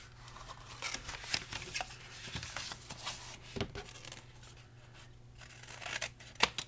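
Sharp, irregular scissor snips and crisp paper rustling close up while cutting cardstock for a snack box craft, with small crinkles between the cuts and no talking.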